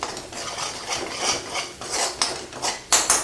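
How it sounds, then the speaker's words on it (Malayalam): Chilli powder masala stirred in a pan over a low flame for a prawn and long-bean stir-fry, with rhythmic scraping sweeps of a spoon and sharp metallic clinks against the pan, growing more pronounced toward the end. "നന്നായിട്ട് ചെറിയ ഫ്ലെയിമിൽ അടി പിടിക്കാതെ ഇളക്കി കൊടുക്കാം"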